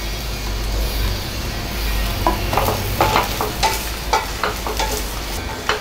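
Dried red chillies and coconut dry-roasting in a pan for Nellore tomato rice give a steady close crackle and hiss, with scraping stirs in the second half and a low hum underneath.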